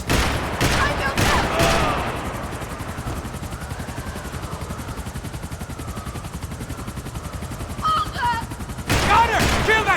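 Heavy gunfire erupts in a Max Payne 3 firefight: loud rapid bursts at the start, a long sustained rattle of shots and a helicopter-like drone through the middle, then another loud volley at the end, with voices shouting over it.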